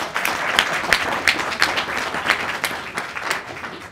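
Audience applause at the close of a long lecture session, a dense steady wash of many hands clapping with crisp individual claps standing out, loud and continuous throughout.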